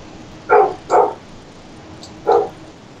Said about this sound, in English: tell your dog to shut up.